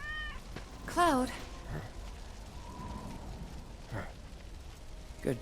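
A cat in Final Fantasy VII Remake gives a short, clear meow near the start, followed by faint later mews over quiet game ambience, with soft speech-like sounds in the background.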